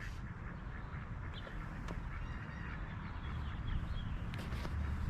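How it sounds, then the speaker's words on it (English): Ducks quacking off in the distance over steady wind noise, scattered calls rising now and then, faint and outdoors at a fishing spot. "And y'all can hear the ducks."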